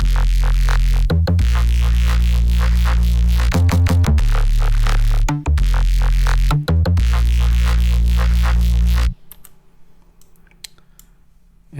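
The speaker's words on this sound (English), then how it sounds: "the main bass, which sounds like this" A layered drum and bass main bass synth, loud and dense with heavy low end, pulsing in rhythmic bursts with short chopped gaps before cutting off near the end into a faint tail.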